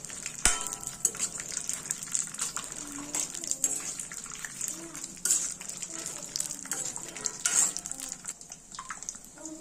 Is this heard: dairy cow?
no